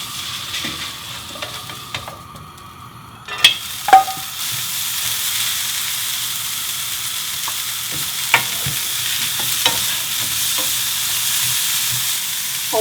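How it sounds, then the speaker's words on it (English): Cucumber stir-frying in a little oil over medium-high heat for sausage gimbap: a steady close sizzle with a couple of sharp utensil scrapes and clacks near the start, then continuous frying hiss. "Little oil, cucumber. Just 20 seconds."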